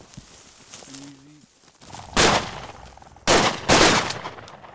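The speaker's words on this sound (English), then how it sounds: "Somebody shot real quick, man." Shotgun blasts go off during an Arizona Mearns' quail hunt: three sharp, loud reports at close range, the last two in quick succession, after a brief bird call in the open field.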